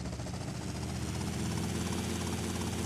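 Helicopter in GTA Vice City, a steady, loud rotor and engine drone that holds continuously throughout with no pauses.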